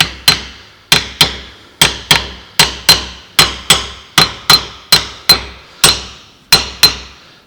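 Sheet steel is hammerformed for a car door rust repair on an HG, with about fifteen sharp, ringing hammer blows at a steady, slightly uneven rhythm, close and loud, each decaying quickly.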